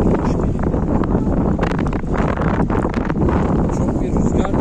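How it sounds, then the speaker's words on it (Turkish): Strong wind buffets the microphone continuously on the Bosphorus during a fishing outing, a steady loud rushing roar with gusting texture throughout. "Çok bir rüzgar da var."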